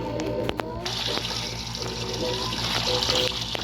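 Running water splashes and trickles steadily at close range, with an intermittent humming drone underneath.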